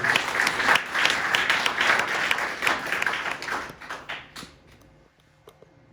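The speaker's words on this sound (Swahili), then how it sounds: "Give our Lord a big clap, please." A church congregation claps loudly together in sustained applause, which thins out and dies away near the end into a quiet room.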